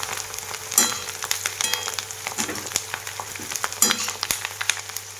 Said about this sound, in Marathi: आता ह्या गरम तेलामध्ये मी हा टाकणार आहे कांदा छान असा वाळवून घेतलेला आहे.